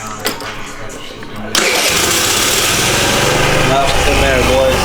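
A stock 50cc scooter engine kicks into life after a few quiet seconds of handling, then settles into a loud, buzzy, high-pitched running note close by, with voices over it.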